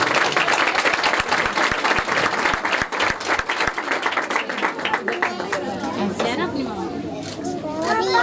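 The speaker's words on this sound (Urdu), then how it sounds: "زوردار تالیاں بیٹا۔" A church congregation claps loudly during a Palm Sunday service, a burst of sharp close handclaps that thins into scattered claps and murmuring voices, with talk and movement continuing after.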